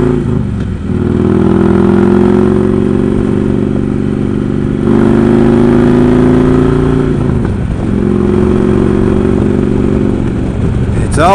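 A motorcycle engine drones steadily and builds as the bike is brought up to speed on a ride, its pitch climbing gradually under continuous wind rush with no break.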